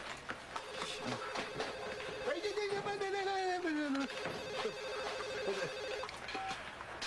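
A telephone rings in a busy restaurant in a French-language comedy, its warbling tone rising and falling through the middle of the stretch over clattering background noise and voices.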